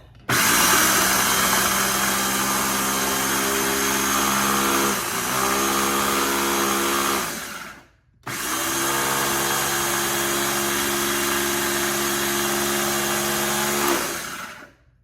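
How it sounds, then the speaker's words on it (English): An electric grinder whirs loudly and close while grinding dehydrated green onions, running in two steady bursts of about seven seconds each with a short gap of silence between them, and no voices. "But we're going to add the rest of this in anyway, or some more of it in, and grind it up."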